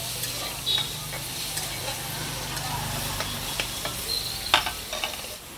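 Prawn malai curry and mustard pomfret frying and being stirred at a Digha food stall, a steady close sizzle with occasional metal scraping clinks, under faint background chatter.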